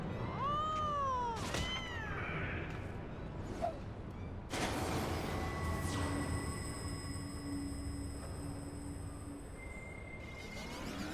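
A cat meows and caterwauls in Final Fantasy XIV: Heavensward, several rising and falling cries close up over steady game ambience, followed by a sharp hit and lingering tonal game sounds.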